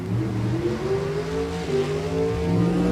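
A Chevrolet Monza bracket race car accelerates hard down the drag strip at Eddyville Raceway Park, a loud rising engine wail climbing in pitch over three seconds.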